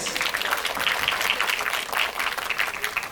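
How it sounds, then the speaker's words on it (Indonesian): Audience applause at a press conference for the film Hati Suhita: a steady wash of many hands clapping throughout, moderately loud, with hardly any voices. "Tapi ini crowd yang sangat luar biasa, kita berikan tepuk tangan."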